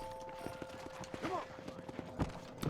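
Horse hooves clip-clopping at a steady walking pace in the Red Dead Redemption video game, soft and fairly distant under a continuous game soundtrack, with someone talking over it.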